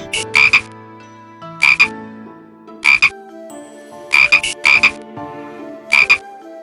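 Students imitate frog croaks while hopping, in short, loud bursts, about six of them spaced irregularly, with no talking in between.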